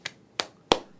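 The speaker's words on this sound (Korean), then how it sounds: "박수를 좀 쳐드리겠고요" Three single hand claps sound one after another at an unhurried, even pace, each crisp and close in an otherwise quiet space.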